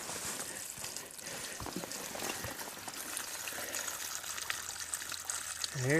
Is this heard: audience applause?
no